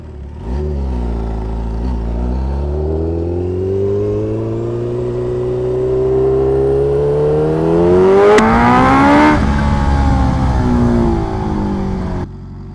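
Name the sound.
Kawasaki H2R motorcycle accelerating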